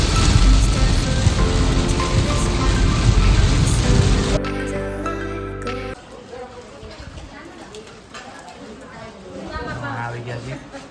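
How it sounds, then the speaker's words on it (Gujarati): Heavy rain pours steadily in Baroda, a loud dense wash for the first four seconds, then quieter patter continues with people chattering in the background. "પણ વરસાદ ફૂલ ચાલુ છે તે બરોડામાં"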